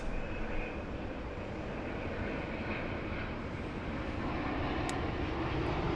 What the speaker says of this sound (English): the aircraft moves at 150 knots